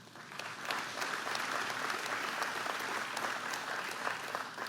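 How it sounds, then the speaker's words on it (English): A crowd at a governor's address claps steadily, a dense, sustained wave of applause with sharp individual claps standing out, no speech over it. "clapping for the agenda I want to get done"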